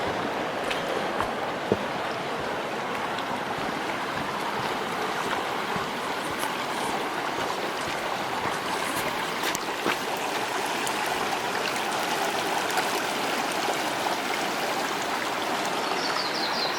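A river flows steadily and continuously at close range, a broad, even rush of water that never lets up, with no voices over it, heard while exploring near a ghost town.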